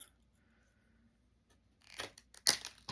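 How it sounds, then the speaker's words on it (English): Ordinary cutters snip through recycled craft material for a Christmas dangle or charm, a few quick crisp cuts close by in the last second after a near-silent pause, with no voice. "Cut that. Our normal cutters."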